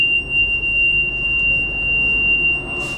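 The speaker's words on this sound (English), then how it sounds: "And then this incessant high-pitched beep radiated throughout the train." A steady, incessant high-pitched electronic beep fills the interior of a Deutsche Bahn ICE2 train, holding one unbroken tone over a low rumble of the carriage.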